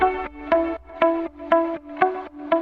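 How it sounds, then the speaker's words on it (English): Guitar loop in an FL Studio dance pop track tracing the melody, with sidechain pumping and reverb: plucked notes that swell and duck in a steady half-second rhythm, clear and fairly loud. "I have a guitar loop that follows the same melody that I made."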